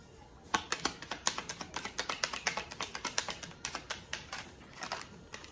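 Tarot cards being drawn and shuffled from a deck, giving a quick run of crisp, close card snaps and flicks in an uneven rhythm, heard alone with no talking.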